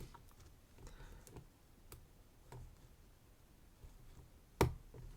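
A vintage Schlage padlock is picked by hand: faint, sparse clicks and ticks of the pins, with one sharper click near the end, in a quiet room.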